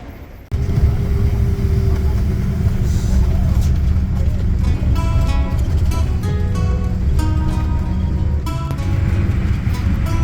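Constant loud engine rumble and road roar fill a rough bus ride in the Philippines with weak air conditioning, with faint rattles and clatter on top and no clear speech.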